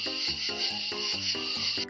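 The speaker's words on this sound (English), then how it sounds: "Katydid." A katydid chirps in a steady, raspy pulse, about seven evenly spaced rasps over a continuous high buzzing hiss, loud and close.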